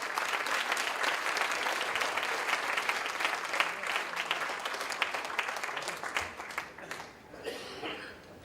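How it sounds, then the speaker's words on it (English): Sustained audience applause at an annual award function, with dense, steady clapping from a large crowd that carries on for several seconds and then thins out toward the end. "Big round of applause for the donor."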